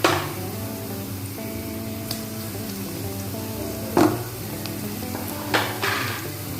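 Garlic goes into golden fried onions for a bottle gourd bhujiya, setting off a steady, close sizzle in the pan with a couple of sharp clinks of a utensil against the pot.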